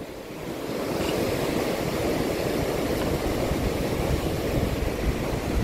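A strong river current rushes with a dense, continuous roar and wash, loud and close with wind buffeting the microphone and no speech.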